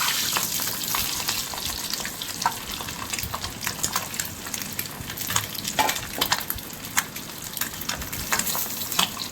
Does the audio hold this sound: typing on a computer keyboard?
no